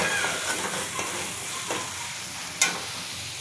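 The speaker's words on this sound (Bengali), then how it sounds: "এবার মশলাটা ভাজা হয়ে গেছে" Spices fry in a pan for a cabbage dish, giving a steady close sizzle with light stirring scrapes and one brief sharp clink near the end.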